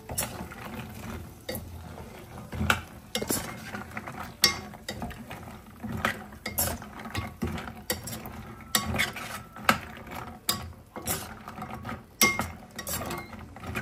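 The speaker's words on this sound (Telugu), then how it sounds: "ఇది పాకం వేసి పాకం పట్టేంత బాగా కలుపుకోవాలి" Fried gavvalu shell sweets being stirred into sugar syrup in a pan, with repeated sharp scraping and clacking strokes of a utensil against the metal in an uneven rhythm, close and clear.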